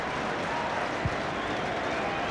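Home football fans in a stadium at Swindon Town versus Grimsby Town applaud and cheer a goal on a bitterly cold day, a steady, broad wash of crowd noise throughout with a commentator's voice over it.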